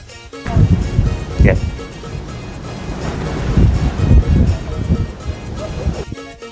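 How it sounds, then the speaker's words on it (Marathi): Strong wind buffets the microphone at a hilltop temple overlooking Barvi Dam. Rough, loud gusts surge and fade throughout, and a person talks over the wind. "हवेचा विंड नॉईस एवढा आहे ना बघा तुम्ही"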